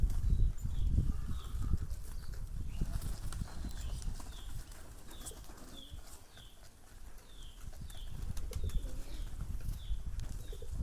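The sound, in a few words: pigeons cooing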